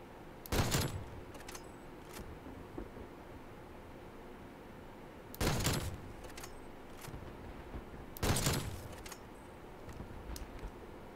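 Three sharp bursts of video game gunfire from Call of Duty zombies mode, spaced several seconds apart over a faint steady background hiss.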